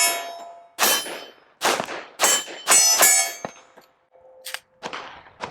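A Sig Sauer Optics Ready 1911-XFULL pistol fires several sharp, loud shots at irregular intervals, each with a ringing, clanging tail. No voices are heard.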